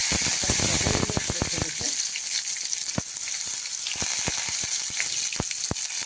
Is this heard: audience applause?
no